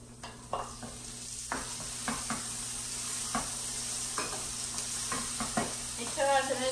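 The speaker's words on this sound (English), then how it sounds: "Now I add my tomato." Tomato fries with browned onions and garlic in a pan, a steady close sizzle broken by repeated scraping stirs of a spoon, with a sharper burst of bubbling at the end.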